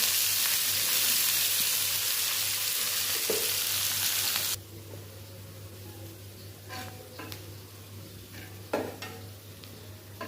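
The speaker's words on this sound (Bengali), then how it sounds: "ওই তেলে আমি পেঁয়াজ রসুন দিয়ে দিলাম।" Onion and garlic frying in oil in a home kitchen, loud steady sizzling for the first half, then a quieter hiss with occasional stirring clinks and scrapes.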